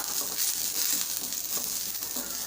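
Green chillies, tamarind and curry leaves sauté in a little oil over a medium flame, a close, steady hiss and crackle with faint stirring scrapes and no voices.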